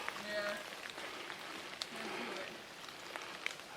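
Steady rain patters on a forest trail in the West Canada Lakes Wilderness near Pillsbury Lake, a soft even hiss with a few sharper drops standing out, fairly faint and continuous throughout.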